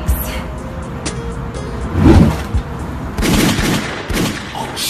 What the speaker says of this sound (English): Oh shit, somebody's shooting in there.